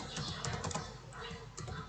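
Quick, light clicks of typing on a computer keyboard, close and soft, with a brief pause before the tapping resumes.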